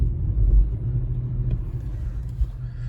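An Infiniti FX50 on bald tires sits stuck in a deep snow hole and tries to reverse out, its engine giving a close, loud, steady low rumble with slight swells and no clear revving.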